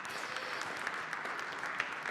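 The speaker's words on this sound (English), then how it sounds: "let's give a round of applause" An audience applauds at a Thinkers50 conference session, a steady wash of clapping at moderate level, somewhat distant and continuous for the whole moment.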